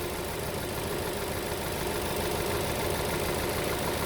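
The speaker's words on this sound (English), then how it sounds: "But as you can see, the engine is still shaking and it's vibrating." A Vauxhall Astra J petrol engine idles with a misfire, a steady close-up rumble with an uneven, knocking roughness running through the few seconds without any talk.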